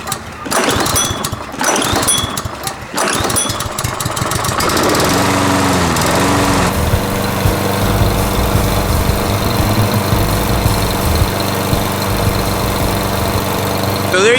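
A Toro Super Recycler lawn mower engine, its carburetor freshly rebuilt, sputters through a few cranking attempts before catching and settling into a loud, steady close-up running drone.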